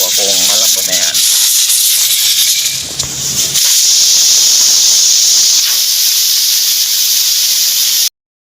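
A pressure cooker vents steam after about 35 minutes of boiling soup, giving a loud, steady, continuous hiss that runs almost the whole time. A brief rattle and clatter comes near the start, then the hiss cuts off abruptly at the end.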